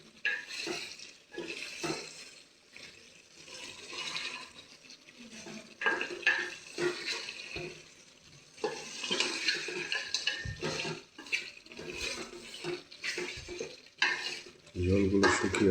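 Beef braising in a pan with bubbling liquid, stirred with a spoon in repeated scraping, sloshing strokes between short pauses, moderately close and without speech.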